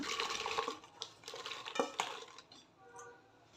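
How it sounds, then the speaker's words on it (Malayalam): Water gushes into a metal pressure cooker holding green peas in a few uneven pours, splashing loudly at first and then thinning out before stopping. "ഇനി രണ്ട് കപ്പ് വെള്ളം ഒഴിച്ചു കൊടുക്കുക"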